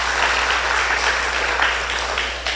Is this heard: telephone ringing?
no